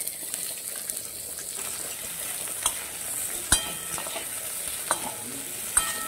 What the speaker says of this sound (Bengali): আলুটা মোটামুটি ভাজা হওয়ার মধ্যে দিয়ে দিচ্ছি একটু কুচো করা পেঁয়াজ।